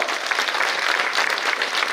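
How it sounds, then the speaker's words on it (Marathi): Audience at a political campaign rally clapping in thanks to the chief minister and deputy chief minister, a dense, steady burst of close applause filling the whole moment. "आपण टाळ्या वाजून आभार व्यक्त करूया"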